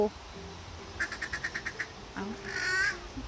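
A family of ducks by a stream, with a short run of quick rhythmic quacks followed by a louder, longer burst of calls, heard at moderate distance over faint outdoor background.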